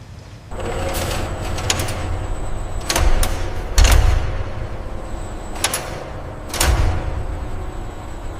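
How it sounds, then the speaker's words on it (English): A gate is opened at a seafood processing plant, with sliding, rolling metal clatter and several sharp knocks and bangs spread over a steady background hum of the facility. "I'll open the gate now."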